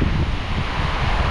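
Strong typhoon wind gusting through coconut palms, a steady loud roar with rumbling low buffeting and wind noise hitting the microphone throughout, no talking.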